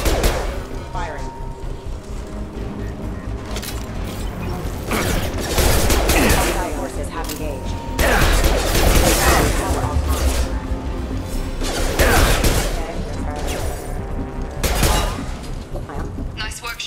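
Gunfire in the Mass Effect 2 video game as security mechs close in, with dense rapid bursts of weapon fire and heavy booms that continue throughout. A radio voice talks under the shooting.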